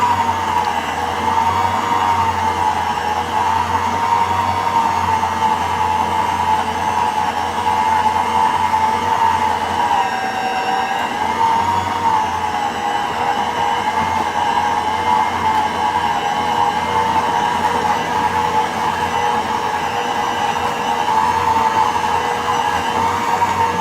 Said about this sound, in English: I close the mixer machine and